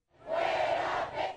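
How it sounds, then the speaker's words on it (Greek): Crowd of protesters in the streets of Mexico City shouting together in a loud, sustained roar that swells briefly near the end, with no clear individual speech. "άνθρωποι κατέβηκαν στους δρόμους της πρωτεύουσας για να διαμαρτυρηθούν."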